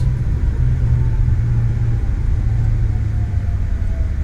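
A CRJ-900 airliner in Microsoft Flight Simulator 2020 brakes on the runway after landing, a steady low engine and rolling rumble that holds evenly throughout without voices.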